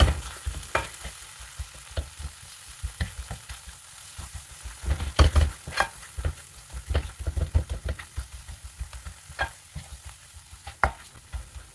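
Softened tomatoes are pressed and mashed in a hot frying pan, a run of wet squelching scrapes and spatula knocks over a low sizzle, close and uneven in rhythm, with no talk.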